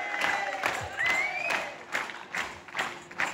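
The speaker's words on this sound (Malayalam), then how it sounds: "കേട്ടു നിൽക്കുന്ന കൂട്ടുകാരൊന്നു കൈയടിച്ചാട്ടെ" Audience clapping along in rhythm to a Malayalam folk song (nadanpattu), with a steady run of claps and crowd noise over singing.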